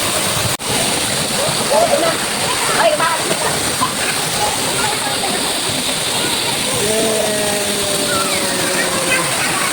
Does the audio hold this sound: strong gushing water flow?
yes